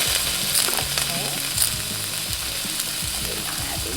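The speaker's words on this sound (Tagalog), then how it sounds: "ginigisa naman natin yung ating garlic at saka yung ating onions dito" Garlic and onions sauté in a hot pan for a vegan japchae, a steady close sizzle with occasional scraping stirs and no talk.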